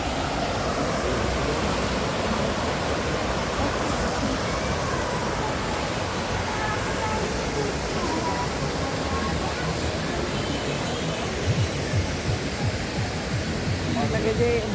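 Waterfall at Inspiration Lake in Hong Kong pours in a steady, loud broadband rush of falling water, unbroken throughout, with faint voices briefly surfacing under it.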